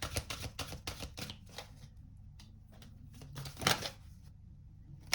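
Oracle cards being shuffled by hand, a quick series of soft riffling snaps and slides followed by a pause and a final louder burst of shuffling up close.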